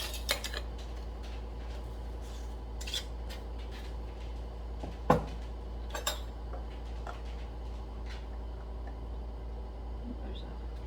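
Metal canning lids and rings set onto glass jars of dill pickles give scattered light clinks and taps, a few sharper knocks among them, over a low steady hum in a quiet kitchen.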